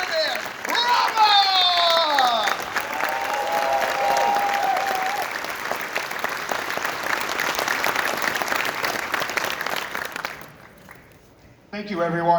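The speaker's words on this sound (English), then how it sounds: "Now keep that applause going as we welcome out our cheerleader," A convention crowd at a closing ceremony applauds loudly to welcome a cheerleader, with whoops and cheering voices rising over the early clapping. The dense applause runs steadily for about ten seconds before dying away.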